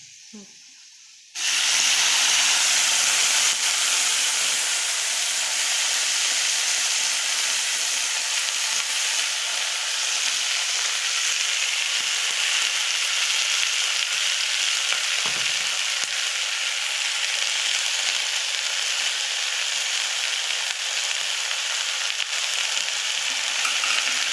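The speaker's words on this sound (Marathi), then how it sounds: "आपण फोडणी टाकूया" After a brief quiet moment, spices hit hot oil with a sudden loud sizzle over garlic fried golden, continuing as a steady, crackling fry.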